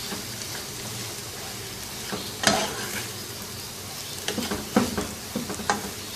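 Crumbled egg khagina fries and is stirred in a pan, a close steady sizzle broken by scraping spoon strokes and a few sharp knocks against the metal.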